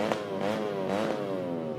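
A racing motorcycle at the Sentul circuit, its exhaust roaring loud and near, the engine note rising and falling through quick gear changes in a continuous rasping snarl with no talk over it.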